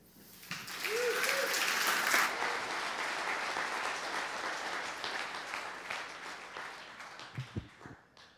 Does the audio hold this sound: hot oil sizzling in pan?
no